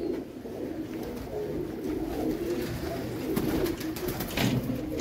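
Pigeons coo softly and steadily in a loft, layered murmuring calls with light rustling and a few sharper flutters near the end.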